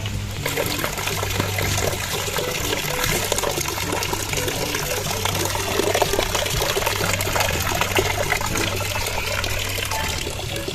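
Water gushes steadily into a container being filled for a bath, a loud continuous splashing pour that carries on without a break and with no one talking.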